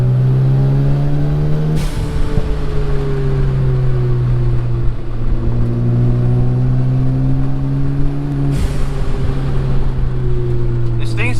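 A Mazda RX-7 FD with a big single turbo driving, its engine drone rising and falling through gear changes with two sharp shifts, loud and close from inside the car.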